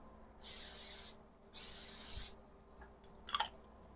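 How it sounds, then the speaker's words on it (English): Two short hissing bursts from a can of cooking spray, each about half a second to a second, followed by a few small clicks and clatters. "Spray with spray."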